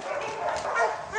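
A recovering fighting dog with chewed-off ears yips and whimpers close by amid a pack of dogs, with a person's voice mixed in over the brief, busy stretch of sound.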